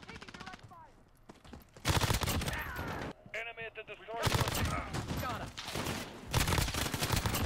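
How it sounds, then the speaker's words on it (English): Rapid bursts of submachine gun and assault rifle fire from a Mini Uzi or M13 in Call of Duty Modern Warfare, loud and dense, with short pauses and some faint voice underneath. "between the mini Uzi and the M13 in this game, these are my favorite guns to use"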